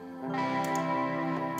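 Electric guitar recorded straight from the amp, drenched in reverb with vibrato and tremolo, rings out as a sustained, wavering chord with shimmering pitch, close and fairly loud, brief.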